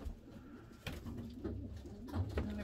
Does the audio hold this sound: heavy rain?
no